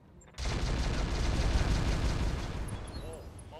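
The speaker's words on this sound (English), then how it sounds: "it looks like a tank explosion" A tank explodes in the video game Roguetech: a sudden broadband blast that erupts after a brief quiet moment, then rolls and rumbles for about three seconds as it slowly fades.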